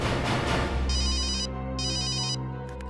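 A phone's electronic ringtone trills in two bursts separated by a short pause, over a low steady background hum.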